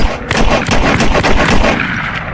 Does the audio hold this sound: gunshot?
yes